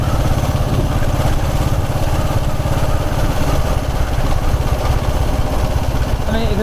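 A 1929 Ariel motorcycle with a low-compression 6:1 engine runs on a ride through country lanes. It gives a steady, close, continuous thumping beat with rushing wind noise throughout.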